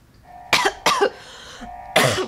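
Three separate coughs from a character in the video game Fallout 4, with short gaps between them. They sound fairly close and stand alone, with no talk over them.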